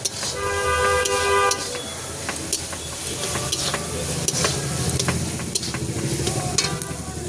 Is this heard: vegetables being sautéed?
yes